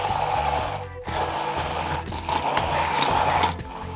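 A blender whirs loudly while mixing Caesar salad dressing with canola and olive oil, a continuous close motor drone with brief dips in pitch.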